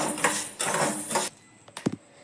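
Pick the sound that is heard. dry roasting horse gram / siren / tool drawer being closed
dry roasting horse gram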